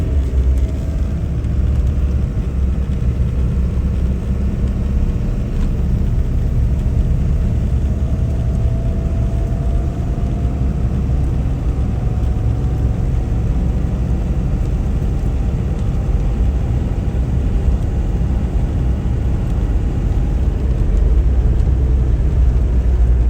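A car driving along a country road toward Lacola, heard from inside as a steady, loud low rumble of engine and road noise with no breaks, with a faint rising whine partway through.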